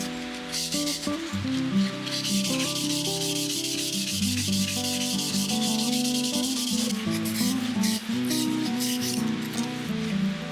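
Rust being sanded off parts of a Mitsubishi MyMini cultivator with 1000-grit waterproof sandpaper: a steady, close, scratchy rubbing with rhythmic strokes, heard over continuous background music.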